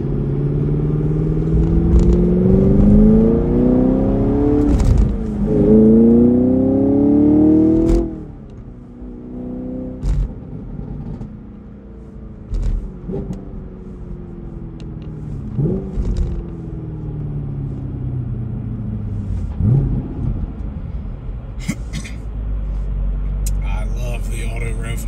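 A 2023 Chevrolet Camaro 2SS 1LE with a naturally aspirated 6.2-liter V8 and six-speed manual accelerates through the gears, engine pitch climbing and dropping at each shift, then settling into a lower cruise as a person talks over it.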